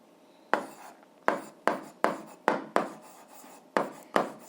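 Chalk or a pen strikes and scrapes a board in a series of sharp, irregular taps and short strokes as an algebra solution is written out, close by and with no voices.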